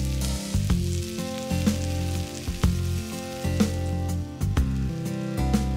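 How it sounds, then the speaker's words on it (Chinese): Grated potato and onion hash brown frying in olive oil and butter in a pan, giving a constant dense sizzle and crackle with small pops, close and steady throughout with no voices. "这个时候可以切几个小的黄油块，沿锅边缘放入，来促进薯饼的焦糖化。"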